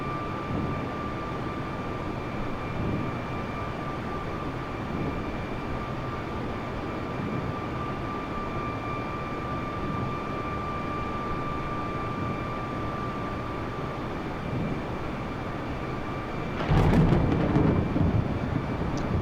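Jet engines of an Airbus A320neo on landing approach in Microsoft Flight Simulator 2020 drone as a steady broad roar with faint tonal whine, holding constant at moderate loudness, swelling with a rumble near the end.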